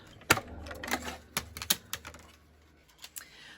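Plates running through a die-cutting and embossing machine, producing a few sharp plastic clacks and cranking clicks, close and fairly quiet, spaced irregularly over a few seconds.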